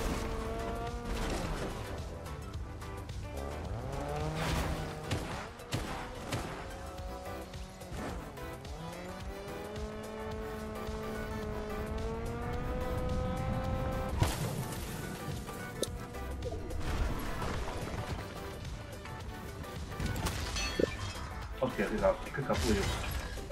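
In the video game Fortnite, a car drives with engine whine and tire squeals, then crunches and shatters as it is smashed, repeated impacts heard under steady talking from players.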